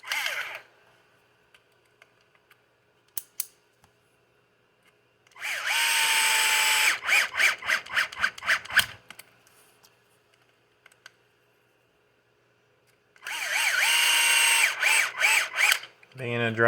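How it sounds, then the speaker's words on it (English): A power drill drives screws to bolt together an RC car differential during a dry build, running in two sustained whirring bursts with short pulsing stops, alone and fairly close. "So we'll go ahead and bolt it all the way together."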